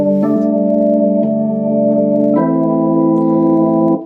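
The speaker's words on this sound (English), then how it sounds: "The best ones that we use the majority of the time is option 2, jazz organ." A jazz organ patch on a Casio keyboard holds sustained chords that shift twice, a steady full tone with no talking.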